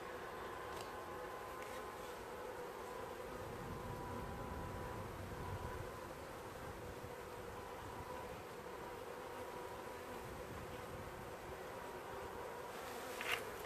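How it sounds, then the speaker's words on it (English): Steady, dense buzzing of many bees close by at the entrance of a weak hive, a continuous insect drone with no voices. "And some of the bees are going back in."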